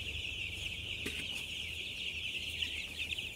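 Broiler chicks in a poultry shed give a constant dense chorus of high cheeping, steady and close, with no voices over it.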